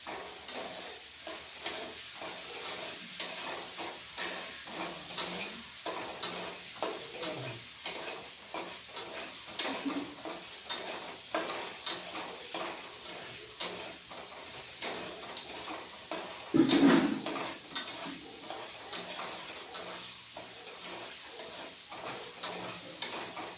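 Dried lotte fish cooks with Malabar spinach seeds in a pan under a constant soft sizzle, with frequent rhythmic scrapes of a utensil stirring against the pan and one louder clatter near the end.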